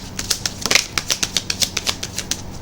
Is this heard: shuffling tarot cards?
yes